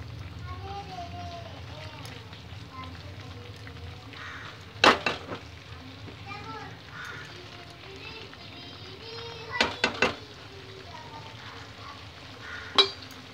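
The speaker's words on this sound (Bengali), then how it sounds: "মশলাটা একটু ভাজা ভাজা হবে" Spice paste with salt and turmeric frying in a pan for a spicy egg curry gives a steady, close sizzle, broken by a few sharp clatters of stirring, while a person talks over it.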